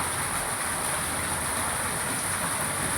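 Heavy rain pours down in a steady, dense hiss that fills the whole stretch without a break, close and loud, with no voices.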